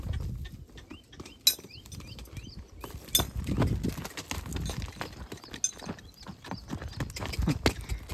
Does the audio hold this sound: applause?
no